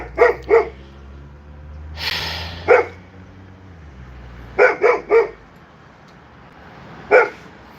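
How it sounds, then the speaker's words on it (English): A dog barks in short bursts, a pair of quick barks, then scattered single and double barks with gaps between them, close and loud. "You're not spending all night barking at neighbors."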